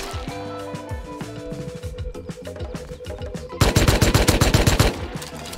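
Video game Rust gunfire: a steady stream of rapid shots that swells into a loud, dense automatic burst near the end, heard alone with no speech.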